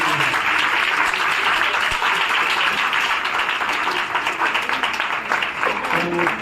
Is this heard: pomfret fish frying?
no